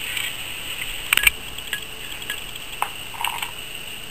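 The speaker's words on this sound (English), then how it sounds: "we're just going to stir it all, cook it until the sauce thickens up" A spoon clinks and scrapes against a pan while sweet and sour tofu sauce with pineapple is stirred, giving a few light, irregular metallic taps over a quiet background hum.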